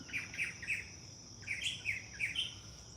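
Birds chirp faintly outdoors during a power outage, with short bright tweets coming in small bursts over quiet background hiss.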